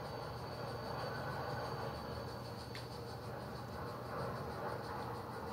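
A locomotive in a video game rumbles along at a steady pace, a low, continuous mechanical drone with a faint hiss on top and a brief sharp tick midway, heard alone.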